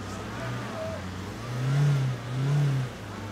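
A car engine revs hard while stuck in snow with the handbrake still engaged, rising and falling in two strong swells over a low idle, nearby and loud.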